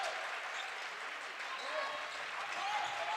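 A high school student section claps steadily in a gym during a boys basketball game, a faint, continuous wash of crowd applause with no individual claps standing out.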